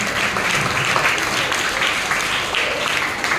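Audience applause fills a school reading-skills programme gathering, a steady dense clapping from many hands that holds evenly throughout without pause.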